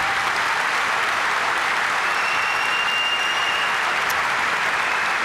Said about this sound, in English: I'll accept that round of applause on behalf of every veteran that's here